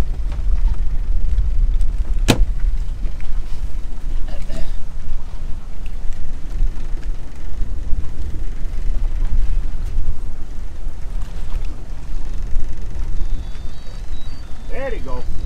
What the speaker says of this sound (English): We got the motor going.